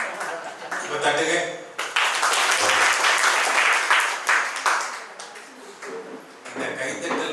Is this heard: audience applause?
yes